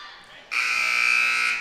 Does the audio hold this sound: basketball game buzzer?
yes